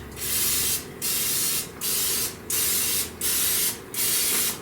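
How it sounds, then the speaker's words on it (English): Cooking spray is sprayed onto silicone muffin liners for pumpkin oatmeal muffins in six close, loud hissing bursts, each under a second long, separated by short pauses. "Usually I don't spray my silicone liners, but it does say to spray it, so I'm going to do that."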